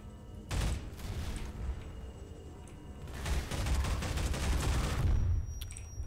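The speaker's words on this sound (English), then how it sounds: "that guy fired a grenade" Grenade launcher fire and explosions in the Half-Life 2 Episode 2 shooter, a dense volley of loud booms and gunfire bursts with a heavier cluster in the second half, no speech.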